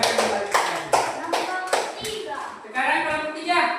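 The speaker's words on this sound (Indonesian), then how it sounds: "Tepuk tangan untuk kelompok" A classroom of students claps for a group in a series of sharp, rhythmic beats, and children's voices chatter as the applause fades.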